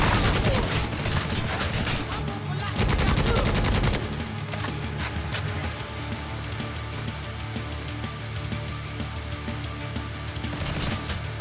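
Heavy sustained gunfire from enemies shooting at the player in Necromunda: Hired Gun, a loud dense fusillade for the first four seconds, then thinner continuing shots and impacts in a busy mix.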